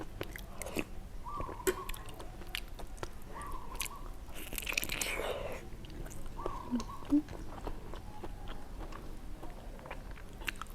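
Someone gnaws and chews spicy boiled pork leg on the bone, producing close, quiet wet chewing and crunchy bites in steady irregular rhythm, with brief hums of pleasure between mouthfuls.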